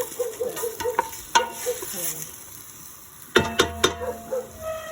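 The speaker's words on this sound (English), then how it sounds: "And I added the garlic. So I just sauteed it." Garlic sautés in oil in a pan with a soft, close sizzle, broken by sharp clinks and scrapes of a utensil stirring against the pan.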